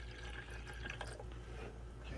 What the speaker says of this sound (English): I have to fill it up to this line here with the water.